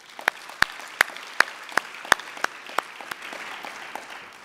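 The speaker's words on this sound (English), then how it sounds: "Please give him a round of applause" At an African business leaders awards ceremony, a few people clap in slow, distinct, regularly spaced claps that stand out crisply, then fade into a softer, scattered patter.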